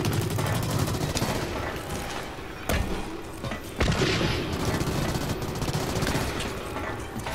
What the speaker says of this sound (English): Oh, we got shot from behind.